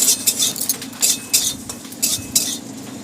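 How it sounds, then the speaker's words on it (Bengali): Metal utensil scraping and clinking against a pan in quick, irregular strokes while stirring whole cumin and spices for chicken, close up, with a faint sizzle underneath. "আর একটু নাড়াচাড়া করে নেব মশলাটা"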